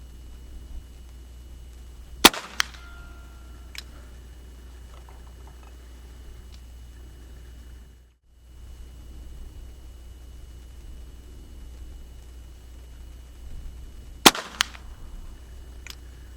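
Two sharp air rifle shots from a Sam Yang 357 firing round ball on low power with a 3000 PSI fill, one early and one near the end, each a loud crack with a brief ringing tail over a steady low hum.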